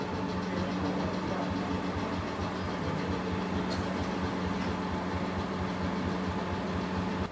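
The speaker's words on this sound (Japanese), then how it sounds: "客車を牽引するのは DE10 型ディーゼル機関車" A DE10 diesel locomotive hauling the Sagano Romantic Train approaches, its engine a steady, loud, throbbing rumble that holds constant throughout, with no talking heard.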